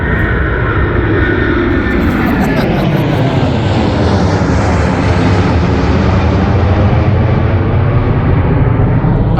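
Airplane passing low over a spot right across the road from McCarran Airport in Las Vegas, a loud, steady roaring engine drone that swells and shifts in pitch as it flies overhead, with no speech.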